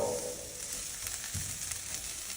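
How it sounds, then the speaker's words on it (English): Onions sizzle on a Blackstone griddle, a close, steady frying hiss with a few soft scraping touches. "I love the smell of onions cooking"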